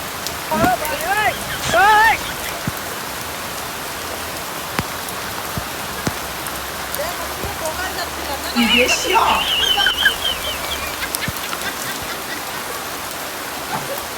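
Heavy morning rain pouring down in a steady, dense hiss, with voices talking and calling out briefly over it at a few moments.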